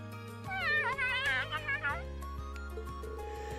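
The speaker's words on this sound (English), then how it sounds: "Cat. Of course." A cat meows in the video game Trails of Cold Steel, a few wavering, drawn-out meows in quick succession over a steady game music backdrop.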